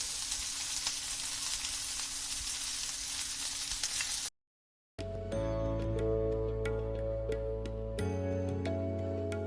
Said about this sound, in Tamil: இதே மாதிரி நம்ம ஊற வச்ச எல்லா சாய் சங்கையும் பொரிச்சு எடுத்துக்கோங்க